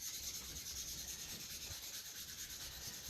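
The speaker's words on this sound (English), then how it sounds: "you'll sand each of these 4 sides and wash it off and start again" Wet sandpaper of 180 to 220 grit rubs over a soapstone pipe, giving a faint, steady scratchy hiss of close-up sanding strokes with no talking.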